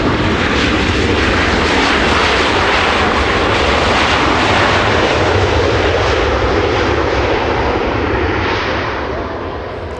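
An airliner on its takeoff roll at Los Angeles International Airport, engines roaring loud and steady for several seconds before easing slightly as the aircraft moves away.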